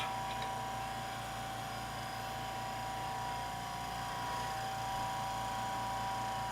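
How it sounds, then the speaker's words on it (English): A quiet air compressor runs close by in a workshop, giving a steady, even hum with a thin constant whine on top and no pauses or talk. "so that compressor is right here. Literally right here."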